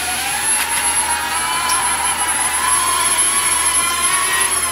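An Air Hogs Star Wars Millennium Falcon toy drone flies close by, its rotors making a steady, loud, high-pitched whine that rises slightly in pitch and holds without a break.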